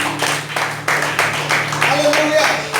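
A church congregation claps during a Sunday sermon, a rhythmic burst of hand clapping filling the room, with voices mixed in underneath.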